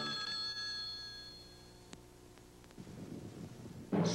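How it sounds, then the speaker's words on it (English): Telephone ringing in a radio advertisement, heard as a repeated electronic bell tone through the first second or so before it fades into a quiet, noisy background. "Pick up your phone and give them a ring."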